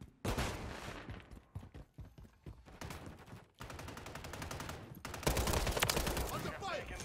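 Heavy gunfire rattles through a shooter video game, dense rapid bursts and sustained automatic fire at close range, with short gaps between volleys and a shouted voice over the fighting.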